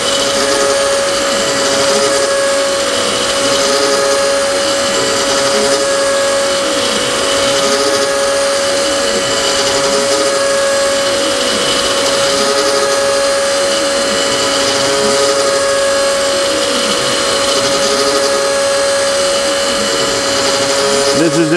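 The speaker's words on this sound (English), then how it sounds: "the second cut around is not so aggressive" A CNC milling machine takes a light climb-milling cleanup pass, a loud, steady whine with a strong constant tone and rhythmic sweeping cutter harmonics running throughout, with no talk.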